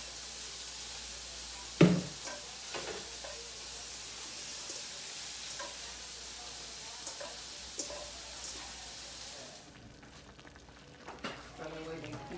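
Shrimp cooking in olive oil in a pan give a faint, steady sizzle and hiss, broken by a sharp clack and a few light utensil taps, with a duller stretch near the end.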